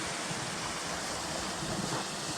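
A waterfall feeding a stream in a hidden hill valley at Langlee Ford, Harthope Valley, gives a steady, broadband rushing wash of falling water, continuous and fairly soft with no voices over it.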